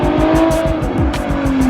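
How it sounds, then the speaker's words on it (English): A Ferrari F12 supercar roars close by, its engine revving hard through rapid pulsing downshifts with a burst of tire squeal, loud and alone without voices. "I'll give you guys a couple of clips from the sound of the Ferrari"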